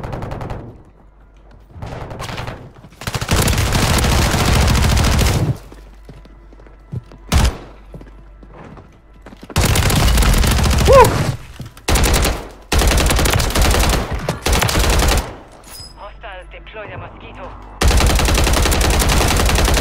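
Shotgun fire in Call of Duty comes as loud, close bursts of blasts and thuds, several clustered volleys separated by short quiet gaps, with faint game sounds in between.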